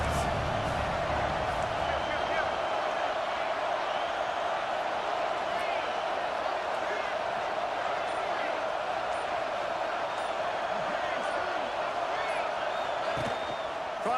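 Video game football stadium crowd roaring steadily through a big third-down defensive stand, a dense continuous wall of cheering that stays loud the whole time, with a commentator's voice talking over it.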